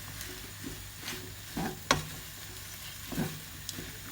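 Mushrooms and spinach being stirred in a frying pan for Cajun pasta, a quiet sizzle with a few soft scrapes and clinks of the utensil against the pan.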